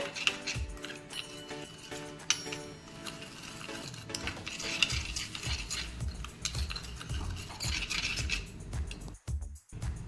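Coffee being mixed with warm water, a spoon clinking and scraping against a cup in quick, irregular strokes, close and fairly quiet.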